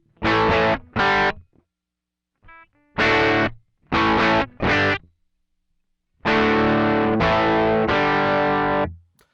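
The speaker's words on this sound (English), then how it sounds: "As you move the voicing knob to the left, it makes it more of a vintage Marshall sound." Electric guitar played through a Joyo British Sound JF-16 distortion pedal, recorded direct: several short crunchy chord stabs separated by gaps, then a long sustained distorted chord ringing loud and alone.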